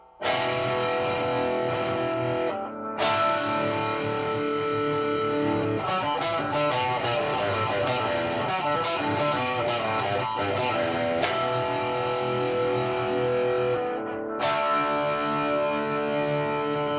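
A distorted electric guitar plays a repeating rhythm riff, then strums two heavy chords, with brief pauses between the riff and the chord sections.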